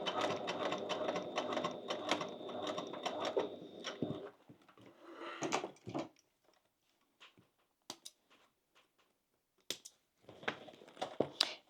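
A sewing machine stitching in the ditch of a crossbody bag seam, a steady rhythmic whir for about four seconds, then scattered clicks, fabric handling and a brief final burst of stitching.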